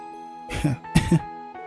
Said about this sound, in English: Having light coughing fits, are we?